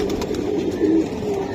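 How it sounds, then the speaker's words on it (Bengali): Silver Giribaj pigeons in a loft, soft continuous cooing murmurs under a dense, steady ambient wash with faint clicks. "এটা সিলভার কবুতর। সিলভার ভাই? চিকন স্টার সিলভার কবুতর।"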